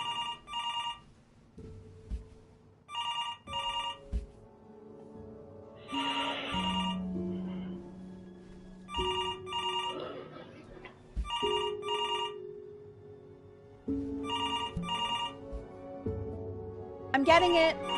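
A telephone rings in the video game Before Your Eyes, its electronic trill repeating in regular bursts about every two to three seconds over a low musical backdrop, with a voice speaking briefly in between.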